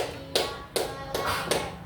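A group of children claps hands in unison to a counted rhythm in a school physical education lesson, with four crisp evenly spaced claps, close and fairly loud, no voices over them.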